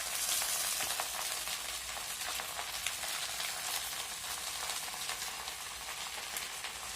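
Greens sautéing in hot sesame oil for a spicy keerai thokku give a loud, continuous close sizzle and crackle throughout, with no voices.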